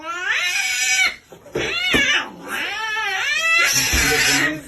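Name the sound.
cat crying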